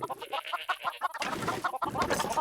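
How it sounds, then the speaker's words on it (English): Minecraft chickens in the DawnCraft modpack clucking in a busy, overlapping flock, with short repeated clucks crowding together close by and growing denser partway through. "I'm going to turn the chickens down a little bit because we are going to be around these guys a lot"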